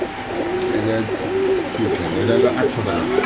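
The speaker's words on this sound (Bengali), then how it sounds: "এখানে আছে এক জোড়া কবুতর" Pigeons coo repeatedly at a bird market, soft rolling calls from caged pairs close by, overlapping with people talking nearby.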